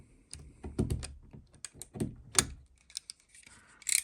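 A Stanley knife trims excess plastic from a model tube train body, giving a quiet series of sharp clicks and scraping cuts with short pauses between strokes.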